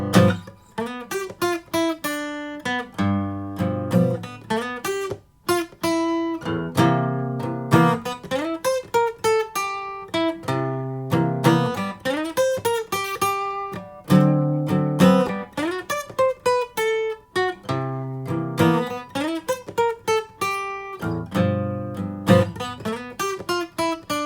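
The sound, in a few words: acoustic blues guitar exercise with chords and licks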